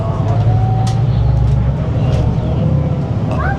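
Steady low rumble of a moving bus, heard from inside the cabin on the way to Playa Paraíso, with continuous engine and road noise and faint brief background sounds.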